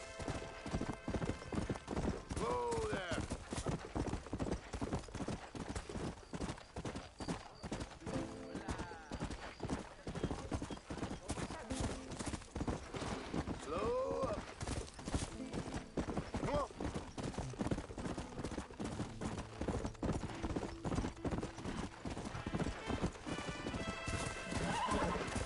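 Horse hooves gallop in the video game Red Dead Redemption 2, a fast, even clip-clop that continues steadily at close range, broken by occasional whinnies.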